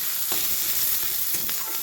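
Onions and chopped green chilies sizzle steadily in hot oil in a pan, with a few scraping stirs of a spoon breaking through the close, continuous frying hiss.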